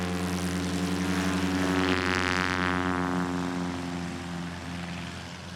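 A STOL airplane's propeller engine drones loudly and steadily as power comes up at an outdoor competition, swelling briefly and then easing slightly, with no talk over it.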